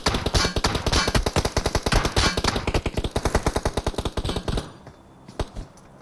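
Rapid automatic gunfire from a battle royale game during a team scrim, a long dense burst of loud repeated shots that stops abruptly near the end, followed by a couple of scattered single shots.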